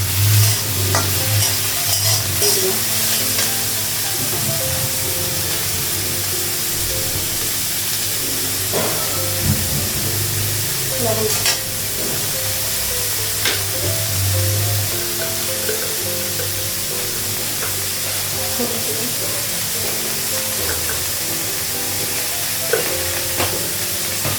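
Pointed gourd frying with dried red chillies in a pan, a steady loud sizzle and hiss running throughout with occasional stirring scrapes and crackles, no voices.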